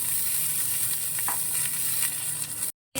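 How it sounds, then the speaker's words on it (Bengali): Potato pieces and browned onions sizzle and fry in hot oil in a pan, a steady close crackle with occasional stirring scrapes, cutting out briefly near the end. "পেঁয়াজটা লাল লাল করে ভাজা হয়ে গেলে ওতে কেটে রাখা আলুর টুকরোগুলো দিয়ে দিতে হবে।"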